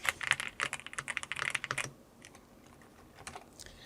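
Rapid clacky keystrokes on a Yunzii B75 Pro Max mechanical keyboard, a dense close burst of typing that thins out to a few scattered presses and quiet.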